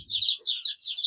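Chickens cluck on a poultry farm, a quick run of close, loud clucks and chirpy calls over about a second, with no other sound around them.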